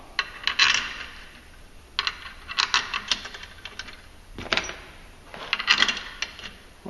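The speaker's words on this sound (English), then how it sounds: "If you're using an air impact or electric impact like this, you don't want to super crank on these" An electric impact wrench fires in short bursts on bolts of an EPI CCT520 clutch compression tool, several separate hammering rattles spread across the clip at close range, with no talk over them.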